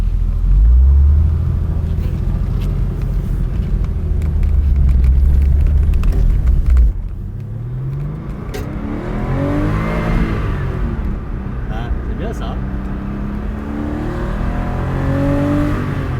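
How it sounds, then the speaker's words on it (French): A classic Porsche engine rumbles loudly while driving, the revs rising and falling through gear changes with a throaty, popping exhaust. "ça pétarade à l'échappement en plus, donc on a vraiment un truc bien vivant"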